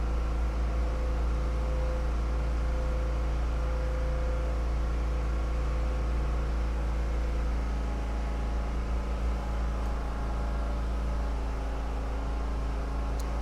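A generator runs steadily in the background, a continuous loud low-pitched engine hum with a broadband mechanical drone holding unchanged throughout, no voices present.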